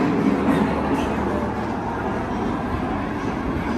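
A modern Moscow metro train arrives, rumbling steadily at close range, a continuous low roar with faint rattling and no clear voices.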